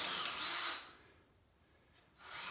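Power drill boring a countersink hole into wood for a rabbit hutch build, a loud steady whir for under a second, a pause, then the drill starting again.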